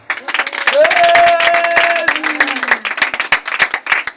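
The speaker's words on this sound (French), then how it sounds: "Si tu as aimé la parole de Dieu, acclame le Seigneur." A church congregation claps together to acclaim the Lord, steady and dense, with a singing or calling voice rising above the applause and crowd noise.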